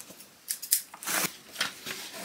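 Scissors snipping close by during an Ikea unboxing, a few crisp cutting strokes and rasping slices in quick succession, quiet with no talking.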